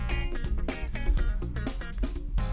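A track from the de Blob video game soundtrack plays as a dense, upbeat band mix with strong bass and rhythmic hits, steady and full throughout the short excerpt.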